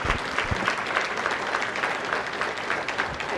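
An audience at a county conservation awards banquet claps steadily, a dense even burst of applause from a room full of people, no voices.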